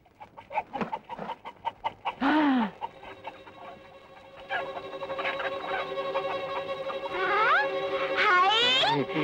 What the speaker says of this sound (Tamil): என்ன சத்தம்? அதுதான் கோழி.